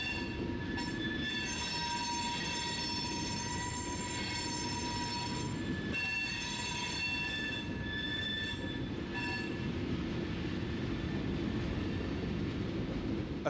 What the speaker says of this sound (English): These loaded iron ore trains can have anywhere from 125 to 175 cars on them.